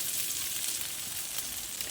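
A dhoka, a lentil cake, fries in a frying pan with a steady loud sizzle and crackle of hot oil.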